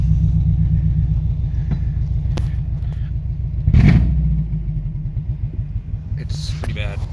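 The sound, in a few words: Subaru GC8 engine running rough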